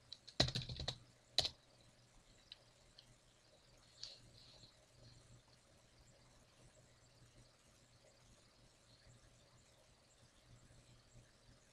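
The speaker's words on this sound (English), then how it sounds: "So I'm going to type in my credentials." Login credentials are typed on a computer keyboard at an Ubuntu login screen: a quick cluster of sharp key clicks comes first, then a few scattered taps, all faint in a quiet room.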